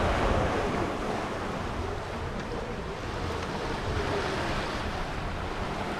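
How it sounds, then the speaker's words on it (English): Continuous rush of ocean water and waves around a sailing boat at sea during an Atlantic crossing, broadband and steady with wind noise on the microphone and no talking. "The noise of the water,"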